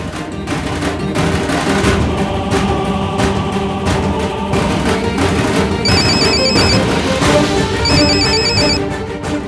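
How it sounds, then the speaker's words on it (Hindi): An unknown number rings a mobile phone late at night. The ringtone sounds as two short bursts of bright electronic chirps over loud, dense dramatic music. "और अब उसका फोन बजेगा।"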